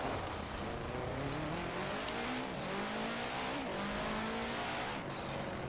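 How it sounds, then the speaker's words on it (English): A Subaru in the racing game Forza Horizon 4 revs and shifts through gears, with the turbo blow-off valve letting out brief hissing bursts between the rising engine tones. "enjoying the blow off that this Subi makes"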